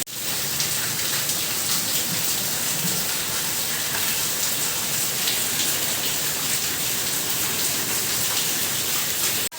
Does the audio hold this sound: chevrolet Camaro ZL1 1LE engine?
no